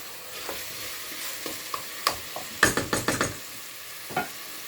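Utensil stirring a prune tajine in a cooking pot, a handful of sharp scraping knocks and clatters, clustered in quick succession midway, over a faint background sizzle, close and alone.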